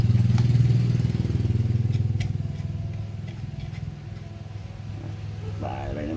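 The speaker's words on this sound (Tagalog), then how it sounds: "Bahala yung makina niya, tingnan nyo, yan ang makina niya." A STIHL 070 chainsaw engine with a misfiring ignition, due for a new point set and condenser, idles steadily nearby with a low, uneven throbbing rumble that slightly fades over the seconds, with faint clatter on top.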